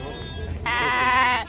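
At a livestock market, a single loud, drawn-out bleat from a sheep or lamb rises sharply after a moment of low crowd murmur and lasts under a second.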